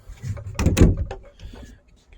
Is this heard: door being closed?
yes